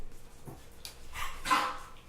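An indoor dog gives a few short, close barks with a whimpering edge, over low room noise.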